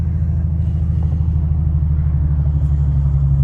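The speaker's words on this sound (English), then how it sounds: "Now slowly let off the clutch and push the gas." A manual Infiniti G37 engine rumbles low and steady from inside the car as it pulls away and accelerates gently. The drone is loud and continuous, with no talk over it.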